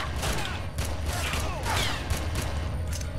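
Rapid pistol fire in the Red Faction game, a loud dense burst of repeated shots packed closely together across a few seconds, with metallic mechanical clatter mixed in.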